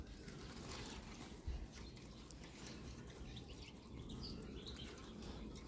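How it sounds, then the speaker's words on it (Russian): A Eurasian siskin flaps its wings in a trap cage outdoors, making a brief, faint flutter over a steady background hiss. "Вот он, чижик."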